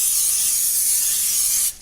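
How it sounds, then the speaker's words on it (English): Olive oil non-stick cooking spray hisses onto a pan in one continuous, close, loud burst lasting under two seconds, cutting off abruptly at the end. "So you also spray the bottom of the pan"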